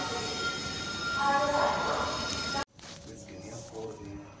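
A train stands at a railway station platform on the Varanasi to Ayodhya route, its broad rumble and hum mixed with platform noise and talk, then the sound cuts to a quieter, more distant scene.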